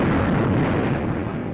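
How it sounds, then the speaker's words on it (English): A dense, continuous roar of heavy aerial bombs exploding on Tarawa's waterfront and beachheads in 1943, loud and rumbling, blending into one sustained blast without pauses. "Thousands of tons of aerial bombs are rained upon Tarawa's waterfront and beachheads"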